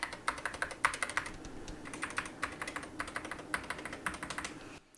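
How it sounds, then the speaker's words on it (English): Crisp, clacky keystrokes on a mechanical keyboard with double-shot PBT SA-profile keycaps, typed in quick irregular bursts up close, stopping abruptly at the end. "The keycaps are double shot PBT SA profile, so they sound pretty crisp."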